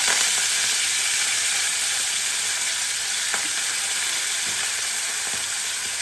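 Fenugreek leaves frying with spices such as asafoetida and turmeric in a pan give off a steady, loud, hissing sizzle, with a few faint clicks of stirring and no voices.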